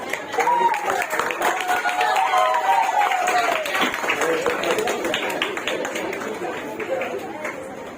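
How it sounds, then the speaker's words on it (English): Girls clap at a felicitation event, a steady crowd applause that runs for several seconds and slowly fades, with a voice speaking over it. "Girls, clap."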